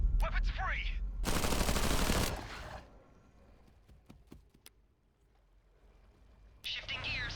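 Gunfire in the video game Zephon crackles in a loud burst of rapid shots, followed by a quieter stretch of scattered sharp pops and clicks before more game noise returns.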